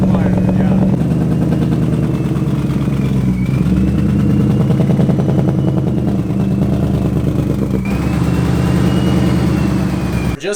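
A Mustang's engine and exhaust, fitted with added resonators, idles in a loud steady low rumble with slight shifts in pitch, heard close up while people talk over it.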